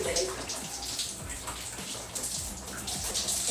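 Hot water runs steadily from a bathroom tap, a close, continuous splashing rush with small drips and gurgles throughout.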